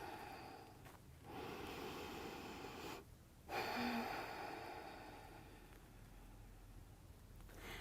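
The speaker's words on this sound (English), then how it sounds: "Pull in some full, smooth breaths." Slow, full breaths are drawn in and let out, quiet and close, in long soft swells separated by brief pauses, with faint rustling between them.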